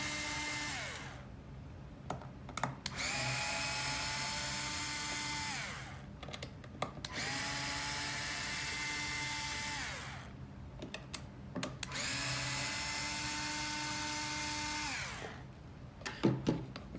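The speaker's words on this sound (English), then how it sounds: "Now use Torx 15 screwdriver to remove the 4 screws." A Torx 15 driver backs screws out of an AirBuddy unit in three long whirring runs, each rising and settling in pitch, separated by short pauses with small clicks and handling taps.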